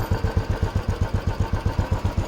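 A Royal Enfield Bullet motorcycle engine runs at a steady idle nearby, a low, even thump-thump beat of about six pulses per second with no voices over it.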